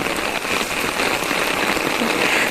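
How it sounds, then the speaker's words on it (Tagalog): Heavy rain pours down steadily in Ota, Gunma, Japan, a dense, loud, continuous hiss of drops drumming on surfaces with no break. "sobrang lakas po ng ulan"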